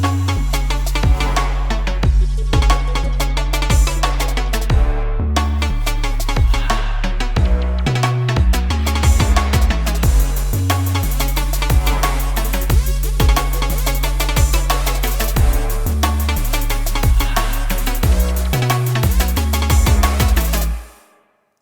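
Trap Nation style electronic drop built in GarageBand on iPad or iPhone, with heavy booming sub bass, punchy drums and bright synth layers playing a dense, loud, continuous groove that cuts off sharply at the end, with no voices.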